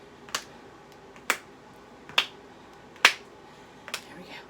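During a strength training workout, five sharp, isolated claps land at an even rhythm about a second apart, close and crisp against a quiet background.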